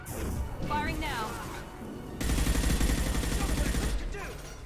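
Rapid gunfire in the sci-fi shooter Mass Effect 2, a sustained burst of repeated shots with heavy low thumps following brief game chatter, loud and close.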